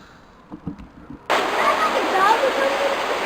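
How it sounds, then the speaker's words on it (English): Creek water rushes loudly and steadily beneath a bridge, a close, continuous broadband roar that cuts in abruptly after a moment of quieter sounds. "Got the creek water running and cars going over the bridge."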